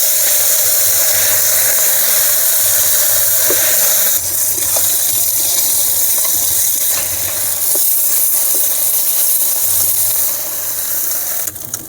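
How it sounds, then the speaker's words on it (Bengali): Small morola fish fry in hot white oil in a wok over a stove, giving a loud, constant sizzling hiss with faint bubbling and no voices. "গরম হয়ে গেছে, এবারে মোরলা মাছগুলো আমি ভেজে নেব।"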